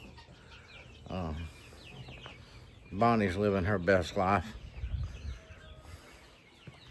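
A hen in a farm chicken pen gives short bursts of clucking, one brief call and then a louder cluster of clucks, close by, with a person talking over part of it.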